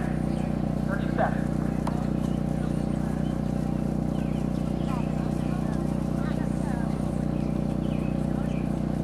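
Horse hooves during a cross-country eventing ride, soft clip-clop in the distance beneath an announcer speaking over a steady loud background hum.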